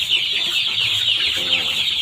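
Four-day-old chicks cheep and cluck steadily and close by while a continuous hissing spray of preventive treatment is misted over them.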